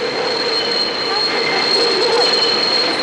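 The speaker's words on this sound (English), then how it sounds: "Oh, the train's coming." A train pulls in with a steady, loud metallic roar and a high, sustained wheel squeal from the rails, close by throughout.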